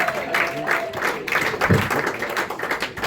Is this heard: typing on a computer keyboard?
no